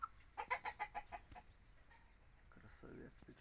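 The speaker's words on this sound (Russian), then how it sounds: "петушок растет." A young black Ayam Cemani rooster in a backyard poultry coop gives a quick series of about six rhythmic clucking calls at close range, followed by quieter rustling and low background noise.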